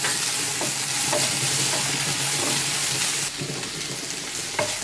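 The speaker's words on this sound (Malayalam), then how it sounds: "ഇനി നമ്മൾ ഈ ചേർത്ത പൊടികളുടെയൊക്കെ പച്ചമണം മാറുന്നത് വരെ നന്നായിട്ടൊന്ന് വഴറ്റി കൊടുക്കാം." Spice powders and tomato sautéing in a pan for a Kerala egg roast, with a loud, dense sizzle and scraping stirs throughout that dip slightly partway before continuing, no talking.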